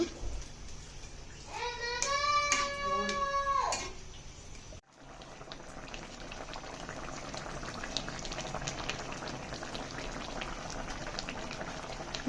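A rohu fish curry simmers and bubbles in a pot for most of the stretch, a steady close bubbling texture that carries on alone after a brief burst of tonal clatter early on.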